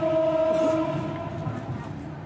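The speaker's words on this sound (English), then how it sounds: "This is the first high-speed train in Laos." First high-speed train in Laos passing through countryside, a steady loud rumble with a sustained horn-like tone early on, fading slightly as it goes by, with no talk.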